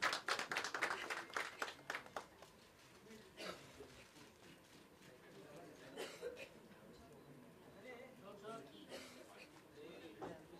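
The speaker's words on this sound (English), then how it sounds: "let's give her a round of applause" Audience applauds a winner at an awards event, with a burst of clapping that fades into scattered claps, chuckles and a voice talking over the room.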